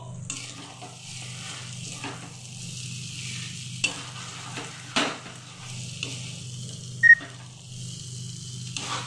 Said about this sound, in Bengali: আমি নুডলসটাকে টঙের সাহায্যে খুব ভালো করে মিক্স করছি।